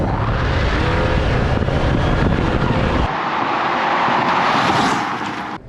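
A gas-powered Chevy Blazer compact SUV accelerates from 0 to 60, its engine roaring loudly and continuously up close, shifting in tone partway through amid heavy rushing wind noise.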